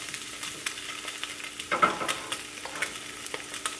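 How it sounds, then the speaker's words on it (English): Bacon and an egg frying in a pan, with a soft continuous sizzle and scattered crackles, and a brief louder scrape and spit near the middle as the bacon is flipped over. "I'm gonna take the bacon, flip the bacon over."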